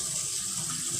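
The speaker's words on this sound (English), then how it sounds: "Just let a little bit of water out." Kitchen sink water draining out, a brief, even rushing hiss, moderately loud with no speech.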